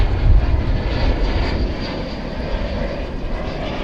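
An Envoy airliner flies in at DFW airport, its engines giving a loud, steady roar that swells early and then holds, heard from a distance with no talk.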